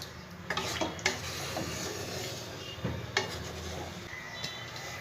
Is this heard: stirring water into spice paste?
yes